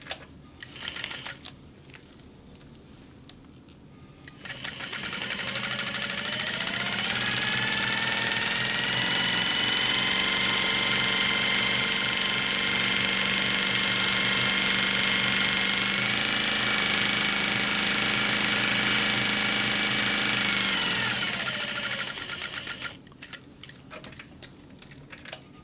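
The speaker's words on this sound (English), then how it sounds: "One of my favorite things about sewing with an industrial is like I can feel the machine pulling the fabric away from me" An industrial sewing machine stitches through sticky vinyl fabric, a loud sustained mechanical whir building up after a few seconds, running steadily for about eighteen seconds, then stopping with quieter handling sounds at either end.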